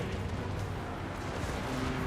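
Cannon fire in a Total War Warhammer 2 Mortal Empires battle with Clan Angrund dwarf forces, a dense rumbling barrage of distant booms rolling continuously over a thick battlefield din.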